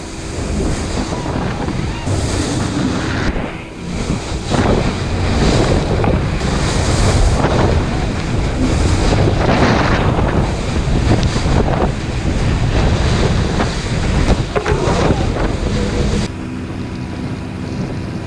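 Rough rapids on the Iguazu river churn around a boat heading upstream toward the falls, a loud, continuous roar of surging water with heavy wind buffeting the microphone and surges that swell and ease.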